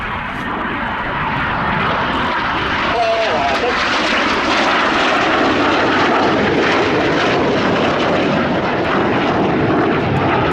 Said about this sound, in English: Each aircraft once again diving down to 300 feet, that closing speed of over 800 to 900 miles per hour